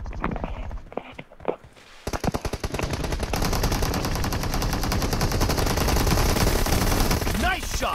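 Rapid automatic gunfire from the PUBG video game, a dense continuous burst of shots after a few scattered single shots and footsteps, loud and up close.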